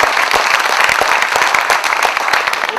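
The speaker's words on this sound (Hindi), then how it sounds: "तालियों की गड़गड़ाहट से स्वागत कीजिएगा।" An audience claps at a staged comedy play, a dense, loud and steady wave of hand claps with no voices heard.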